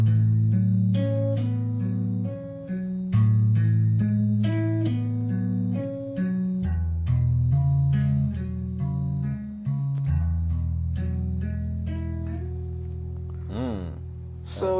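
A bass riff in A, played two-handed two notes per hand and moved up a fourth, runs as a steady melodic line of repeated sustained low notes with a brief gliding flourish near the end, alone without talk.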